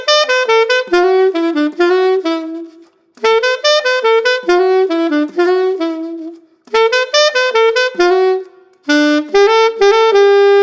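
A solo saxophone plays a lively melody in short bursty phrases, bright and close, with brief pauses between runs of notes.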